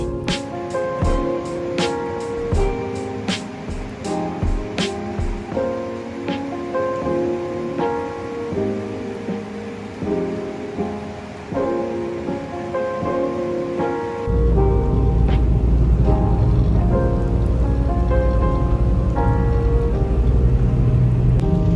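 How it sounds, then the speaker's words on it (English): Heavy rain falls outdoors on New Year's Eve during steelhead fishing, a steady loud hiss with scattered sharp knocks, turning into a denser, louder downpour roar partway through. "I did not expect it to be raining like this"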